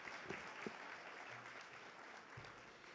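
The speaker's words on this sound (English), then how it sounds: "give him a round of applause" Applause from an audience at a Purple Dragon International hall of fame ceremony, a steady, distant-sounding wash of clapping held at an even level for the whole stretch, with a few brief vocal sounds.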